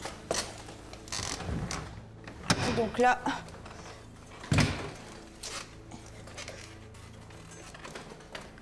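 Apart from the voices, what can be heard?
door being opened between kitchen and garage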